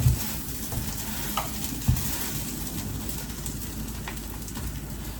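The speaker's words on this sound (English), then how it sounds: "You want to hear that little sizzle?" Canned chicken quesadilla with cheese browning in a pan, a steady close crackling sizzle with occasional small pops and a couple of knocks near the start, no talking.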